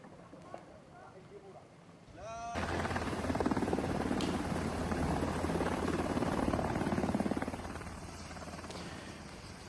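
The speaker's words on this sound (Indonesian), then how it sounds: "rekaman video terbaru menunjukkan helikopter militer Israel mendarat di helipad rumah sakit" An Israeli military helicopter landing on a hospital helipad gives a loud, steady rotor roar that kicks in abruptly after a couple of seconds and holds close by, with faint voices under it at the start.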